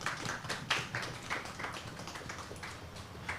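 A small audience at a writers' event in Kigali, Rwanda, applauds a panel: faint, scattered, uneven claps heard from a distance, with no speech over them.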